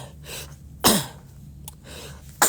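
A single sharp sneeze bursts out, close and loud, followed later by a couple of short clicks or sniffs against a quiet background.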